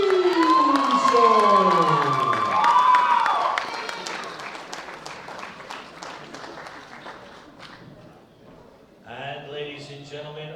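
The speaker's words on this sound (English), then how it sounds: "A big round of applause for Sergey Usov" Crowd applause and cheering fill the space at a world bench press championship medal ceremony, with a voice calling out over the clapping at the start and again near the end.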